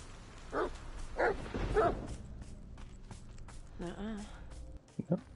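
A dog in the video game The Medium gives three loud, close barks in quick succession. Softer footsteps and a brief wavering vocal sound follow over a quiet background.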